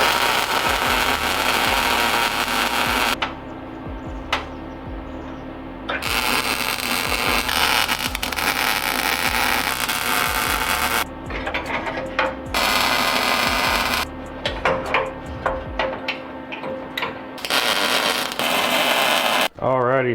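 Welding on a plate underneath the bed of a C10 pickup truck: long bursts of harsh, crackling buzz that start and stop abruptly with short quiet pauses between passes, with some talking in the background.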